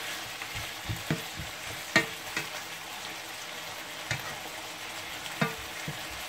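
Chicken in yogurt sauce is stirred in a hot pan, sizzling and frying steadily while a spoon scrapes and knocks against the pan in scattered strokes, close and fairly loud.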